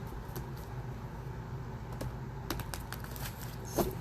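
Quiet, irregular riffling and tapping of tarot cards being shuffled by hand indoors, a series of light crisp flicks over a faint background hum, without talk.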